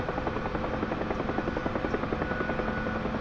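A Huey helicopter flies low in a flight simulator game, its rotor giving a continuous loud, steady thumping drone with an even rhythmic beat and no talk.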